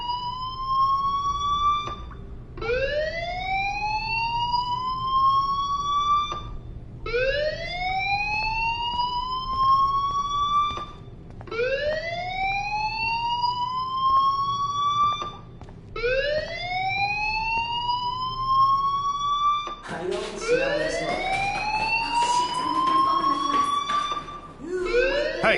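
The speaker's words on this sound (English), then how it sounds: "do you hear that fire alarm? That means you should be outside." A fire alarm in Life is Strange wails in repeated rising sweeps, about every three to four seconds, loud and steady throughout, turning harsher toward the end.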